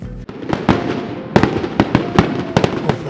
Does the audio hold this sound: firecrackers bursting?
yes